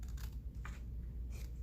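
Scissors snip through a paper scrap during a craft project, with a few quiet cuts standing out against a steady low hum; nobody speaks.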